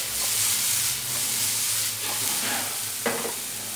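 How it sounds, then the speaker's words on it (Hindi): Mixed vegetables briefly sautéing in a pan ahead of scrambled eggs, a loud continuous hiss of sizzling with a few stirring knocks toward the end, close up and without speech. "वेजिटेबल्स को थोड़ा सा ही सौते करना है, ज़्यादा सौते नहीं करना है"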